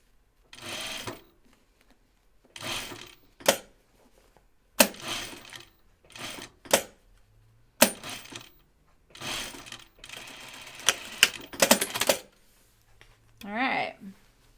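Sewing machine stitching a tack on a Kelly anorak, several short bursts of rapid mechanical whirring separated by quiet gaps, close and clear, with a voice briefly near the end.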